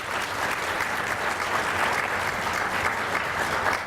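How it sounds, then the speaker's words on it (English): A summit audience at a keynote on reimagining manhood claps together in sustained, even applause filling the room, loud and continuous throughout with no talking on top. "Give yourself a round of applause."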